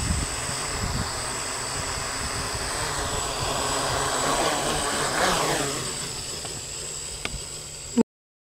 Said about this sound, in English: Now increase the throttle a slight, the motor will start moving.